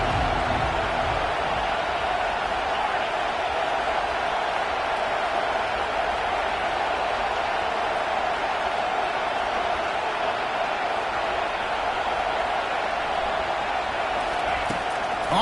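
Steady, dense roar from a large football stadium crowd, a constant wash of noise holding at one level throughout with no clear breaks.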